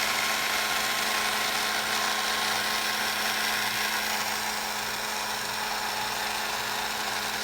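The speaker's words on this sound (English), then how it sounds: "get my little heat tool here, and we're going to run that over" Small heat tool blowing over an acrylic paint pour on a Dollar Tree heart, a constant loud whirring hiss with a steady motor hum, with no talking.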